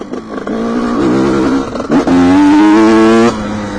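A cold 1988 Honda-style 125 CR two-stroke motocross bike engine revs in short bursts, its tone rising and falling close by, with a brief dip before a higher sustained rev that then drops back to idle.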